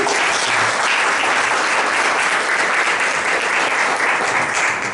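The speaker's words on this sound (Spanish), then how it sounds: "Un aplauso fuerte." Loud, steady applause from a church congregation fills the space, a dense wash of many hands clapping continuously throughout with no break.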